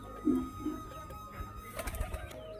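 Pigeons give a few soft, low coos in a loft or coop, with a louder burst near the start and quieter calls after it, over faint background noise.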